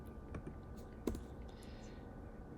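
Calculator keys pressed in degree mode, a few soft plastic clicks with one sharper tap near the middle, close and quiet over a low steady hum.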